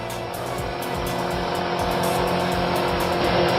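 A moped engine in the Steins;Gate visual novel runs loud and continuous as it comes to a stop, with a steady mechanical drone and a faint rhythmic pulsing throughout.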